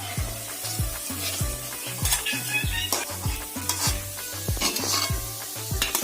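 Soya chunk (meal maker) vadai deep-frying in hot oil, a steady sizzle with a regular beat of stirring or ladle movement, close and fairly loud with no talk.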